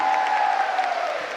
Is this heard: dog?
no